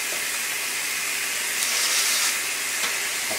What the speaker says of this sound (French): Alors maintenant, on va mettre les saltimbocas à cuire.